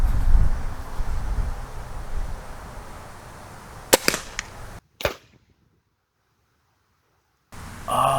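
Air rifle fired at bottles, a sharp crack followed by a second short snap shortly after, against low outdoor background noise that briefly cuts to silence.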